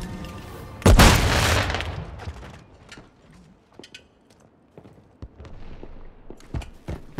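Cruise missile strike in Modern Warfare III lands as one loud, deep boom with a rumbling tail, followed by scattered distant gunfire pops and mechanical clatter.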